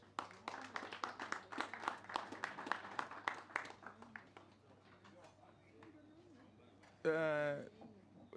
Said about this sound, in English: Let's clap for Dismas.